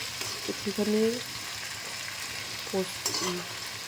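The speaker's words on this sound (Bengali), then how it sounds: "চিকেনগুলোকে ভালো করে নাড়িয়ে মশলাটাকে আমি একটু ঢেকে মশলাটা কষাতে রেখে দেবো" Chicken pieces cook in masala in a pan while being stirred, giving a continuous close frying hiss with scraping movement, and a voice speaks in short bursts over it.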